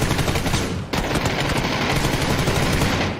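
Sustained machine-gun fire in PUBG, a dense, loud rattle of rapid shots that briefly breaks and then resumes, continuing without pause to the end.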